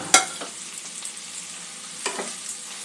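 Onion and capsicum frying in a pan give a soft, steady sizzle, broken by a few sharp scraping stirs of a spoon against the metal.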